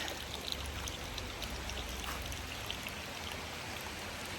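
Steady rain hisses evenly throughout, a soft, continuous patter of drops with no speech.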